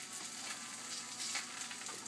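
Chapati dough sizzles and fries steadily on a hot oiled pan, a continuous close hiss with faint crackle and no voices.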